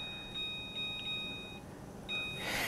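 Short electronic beeps from an oven timer being set, a few spaced tones followed by a longer held beep, clear over a quiet kitchen background.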